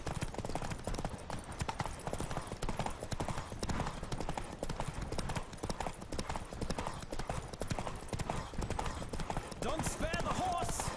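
Rapid, steady clip-clop of a galloping horse in The Witcher 3 video game, loud and continuous, with a voice speaking over the hoofbeats and a brief whinny near the end.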